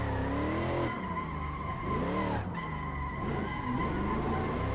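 Tires skid and squeal continuously as a Toyota GT86 drifts around a corner in Assetto Corsa, the screech wavering in pitch over a steady engine drone, loud and close with no talking.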